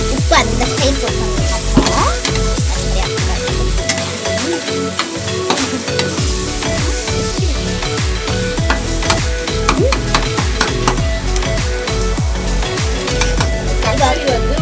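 Vegetables fry in a pan with salt added while a spoon stirs them, giving steady loud sizzling broken by repeated scraping strokes against the pan throughout, with no talking.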